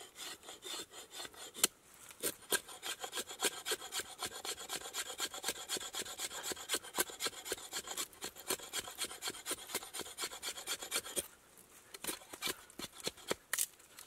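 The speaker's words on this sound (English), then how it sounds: "Be able to make some good shavings off this, I think." A blade carves shavings off a dry beech stick for fire starting at a snowy overnight bushcraft camp, giving fast, close, rhythmic rasping strokes with only a brief pause partway through.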